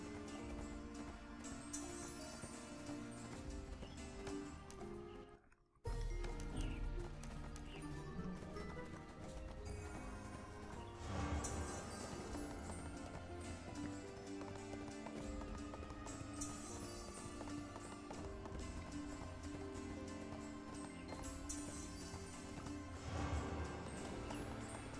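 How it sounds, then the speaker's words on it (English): A horse gallops steadily in the online role-playing game ArcheAge, with rhythmic hoof clip-clops running continuously under game music and ambience and a brief break partway through. "Get back on the horse."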